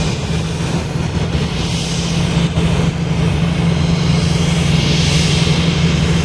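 An airliner takes off at Boston Logan Airport, producing a loud, continuous broadband jet roar with a steady low hum that swells and sweeps as the aircraft climbs away.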